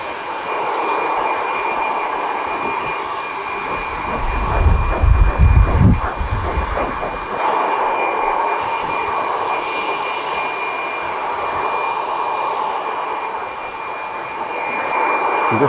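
A high-heat, high-speed hair dryer blows steadily while drying a man's silver hair during a classic haircut with short sides and a longer top, a continuous close airy roar that briefly deepens as the dryer moves around the head.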